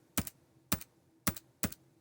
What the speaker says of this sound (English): you can hit the follow key on your Mac's keyboard